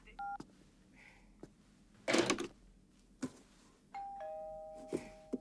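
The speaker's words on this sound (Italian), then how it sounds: "Salvata dal campanello." Doorbell in a house on Halloween night in an Italian horror film, two-tone electronic chimes sounding briefly, fairly faint, amid soft knocks and a short rustling burst.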